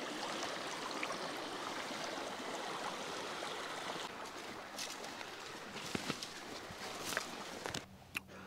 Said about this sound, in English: But you can find fast flowing water.